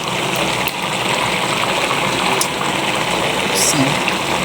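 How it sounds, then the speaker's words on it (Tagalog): Bamboo shoots simmering in coconut milk for kinataang labong, a continuous bubbling and hissing boil that stays fairly loud and even, with a few faint clinks. "Konting kulo na lang."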